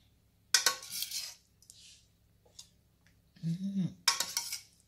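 A lid goes onto a cooking pot of Jamaican-style escovitch fish set to simmer, giving a few sharp metallic clanks and clinks spread over several seconds in an otherwise quiet kitchen.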